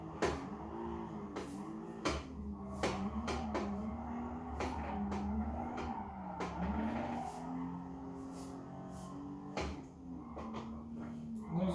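A race car driven in Gran Turismo Sport on PS5 with a Logitech G923 steering wheel, its engine droning and revving steadily with shifts in pitch, alongside repeated sharp clicks and knocks from the wheel setup and no talk.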